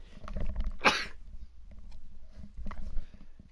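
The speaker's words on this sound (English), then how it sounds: "I gotta sneeze." A single sharp, close sneeze bursts out near the start, followed by soft rustling and faint breaths in a quiet room.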